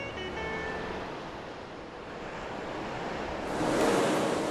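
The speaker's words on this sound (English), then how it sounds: "Nowhere else on German coasts do the waves break with such force." Wild sea waves break with force on a long German beach of fine white sand, backed by a steady roar of surf and wind. A louder wave crashes near the end, and no voices are heard.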